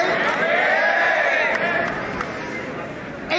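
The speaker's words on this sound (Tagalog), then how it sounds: "Mahaba lang dahil sa sigawan ng tao." Dense crowd noise at a rap battle, a loud, continuous wash of shouting and chatter that stays near and full throughout before easing slightly toward the end.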